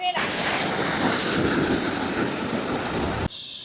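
Fast floodwater rushes through a bridge broken in two in Mullaitivu, a loud, steady, close roar that cuts off abruptly near the end.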